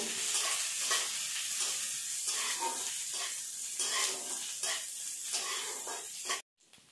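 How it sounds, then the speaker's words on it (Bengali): Chopped onion and garlic fry in hot oil in a pan, giving a steady, loud sizzle with rhythmic stirring scrapes throughout before cutting off abruptly near the end. "এরপর কুচানো রসুন দিয়ে দেবো, দিয়ে হালকা করে লাল করে ভেজে নেব।"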